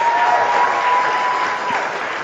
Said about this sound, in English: Everybody give Benjamin McCall a round of applause